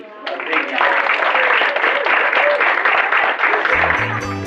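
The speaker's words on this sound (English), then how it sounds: "a big hand of applause, please" An audience applauding, a dense, steady wash of many hands clapping that holds for several seconds at moderate loudness, ending with a short musical sting.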